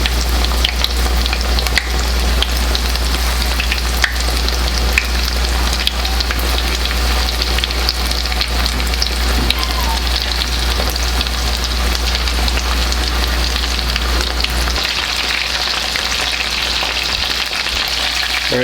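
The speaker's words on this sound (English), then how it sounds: "You want to have enough oil in here to almost cover the fish" Fish frying in oil deep enough to nearly cover it, a loud, continuous crackling sizzle close up, steady for the whole stretch under a low constant hum.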